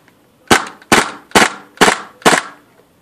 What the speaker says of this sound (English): Then rotating down to 2-shot burst.